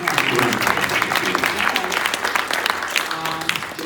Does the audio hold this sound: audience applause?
yes